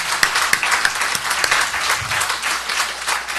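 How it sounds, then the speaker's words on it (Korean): A church congregation breaks into warm applause, dense overlapping hand claps at close range lasting a few seconds without a pause. "사모님께 우리 박수 한번 쳐주시기 바랍니다."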